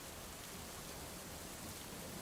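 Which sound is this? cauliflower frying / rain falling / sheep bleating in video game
rain falling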